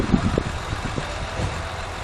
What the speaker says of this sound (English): The left-hand bank is distinctly misfiring.